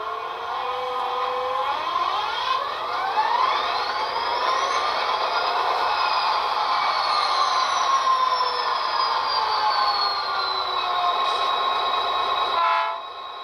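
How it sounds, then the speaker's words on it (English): Athearn SD40 model locomotive with Economi Sound DCC running on the track, its sound decoder giving a steady diesel drone with a rising and falling horn-like tone, loud and continuous, ending abruptly near the end. "we have the Southern locomotive on the track now"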